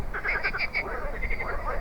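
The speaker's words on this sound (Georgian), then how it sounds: "დღეს ქარი იყო, მაგრამ ახლა აღარ არის, მაგრამ არიან ბაყაყები" Frogs croak beside a river in calm evening air, a run of quick, evenly spaced croaks close by, repeating in short bursts over a soft background with no talking.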